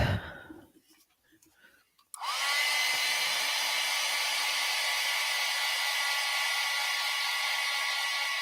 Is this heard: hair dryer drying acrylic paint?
yes